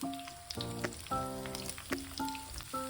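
Green chillies and thinly sliced onion frying in about two spoons of oil for a biryani gravy, a faint crackling sizzle with sustained musical tones layered over it.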